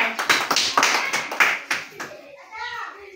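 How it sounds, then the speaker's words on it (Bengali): Children in a primary-school maths classroom clap their hands together in a burst of loud, fairly steady claps lasting about two seconds, then the clapping stops and a voice is heard briefly. "এক নম্বর দলের হয়েছে একটা হাততালি হবে"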